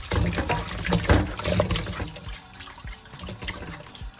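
Tap water runs and splashes over goat meat being washed with lemon in a sink, loud and close, with bursts of sloshing and handling that ease into a lighter trickle toward the end.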